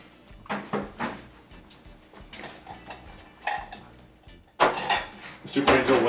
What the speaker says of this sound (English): So I'll put these bowls aside.